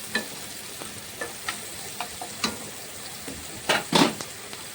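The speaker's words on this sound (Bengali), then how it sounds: "পেঁয়াজগুলো কুচিগুলো নাড়াচাড়া করে একটু ফ্রাই করে নিচ্ছি" Chopped onions being stirred and fried in a pan, with a low steady sizzle under intermittent spatula scrapes and taps, a couple of louder stirring strokes near the end, close and without talk.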